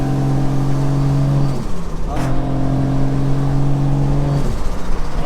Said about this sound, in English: the minute you put your foot down a bit quicker, it changes gear fast